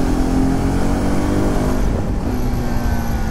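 A KTM RC 390 motorcycle riding fast along a Mumbai road in the morning, its engine droning steadily and loudly close by with a constant rush of wind and traffic noise throughout.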